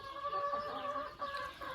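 A hen clucks softly and steadily inside a chicken coop, a close, continuous run of low fowl calls with no voices.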